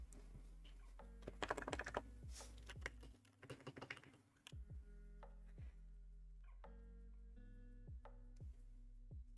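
A Freebird60 mechanical keyboard is typed on in quick, close clacking bursts. A pause in the middle is followed by steadier keystrokes, with a faint low hum running underneath.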